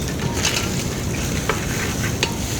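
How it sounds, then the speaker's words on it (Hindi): Spiced minced meat keema sizzles and fries in a hot pan, a steady close crackle with a few scraping stirs of a spoon, no voices. "अब इसको हम भून लेंगे"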